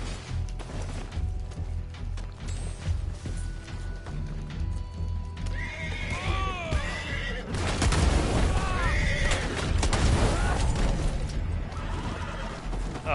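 Horses in the Red Dead Online video game whinny and neigh loudly several times over clip-clopping hooves and a steady background din, with the neighs growing busier in the second half.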